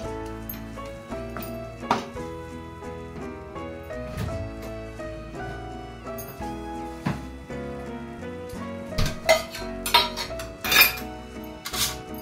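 Spoon stirring capsicum curry with dahi and coriander powder in a metal pan, giving scattered clinks and scrapes against the pan, a few sharper knocks, with a steady music bed underneath.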